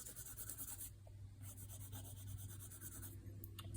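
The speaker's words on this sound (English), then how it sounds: "take a spoon and burnish, or even your fingertips" A spoon rubs over the back of paper laid on an inked lino block to burnish a relief print. The scratchy rubbing is soft, close and continuous, in a quiet room.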